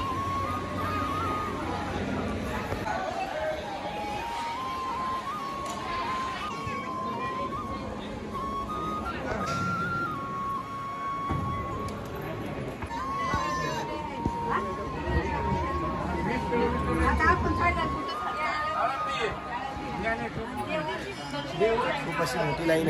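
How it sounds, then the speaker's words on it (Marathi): A dense crowd packed into a long queue for darshan during the Pandharpur wari pilgrimage: steady, overlapping chatter and murmuring voices all around, with scattered louder calls rising above the babble. "खूप अशी गर्दी आहे लाईनीला."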